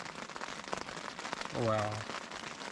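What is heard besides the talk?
rain falling on a tent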